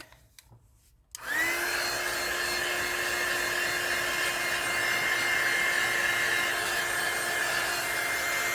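A hair dryer switches on after a brief quiet moment and runs steadily and loudly, blowing on freshly poured Easter resin magnets made with 10-minute cure resin.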